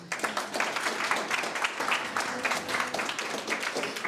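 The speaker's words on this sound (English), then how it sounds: "can we please give a round of applause for all the entrepreneurs" An audience at a youth entrepreneurship skills programme launch claps for the entrepreneurs taking part. The applause is moderately loud and steady, with individual claps distinct throughout and no talking over it.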